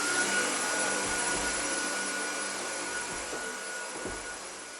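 A vacuum cleaner hoovers walls, giving a loud, steady roar that runs unbroken throughout with no voices over it.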